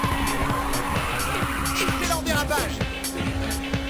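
Cars skid and squeal through corners in the racing video game Ridge Racer 2, loud engine drone with repeated tire squeals and swooping pitch glides, alongside background game audio.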